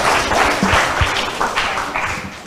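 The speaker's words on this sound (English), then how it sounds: "please give both teams a big round of applause" A debate audience applauds both teams, a dense, loud burst of clapping that carries steadily through and fades slightly toward the end.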